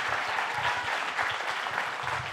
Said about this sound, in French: Je vous demande encore de l'applaudir.